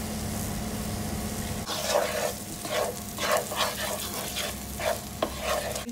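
Onions fry in a pan with paprika and tomato puree, a steady low sizzle joined by bursts of scraping and stirring at close range, with no talking.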